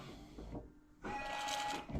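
Rear washer pump on a 2014 VW Tiguan spraying fluid that blasts from the wiper bolt, a sustained whirring buzz that stops briefly, then returns louder and steady for about a second, close up.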